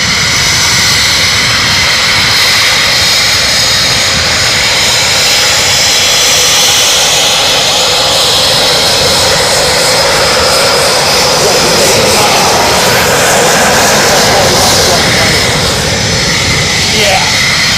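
Eurofighter Typhoon jets of the RAF return to Coningsby, their engines roaring loud and close in a sustained, heavy rush that swells and shifts without pause; people talk faintly beneath.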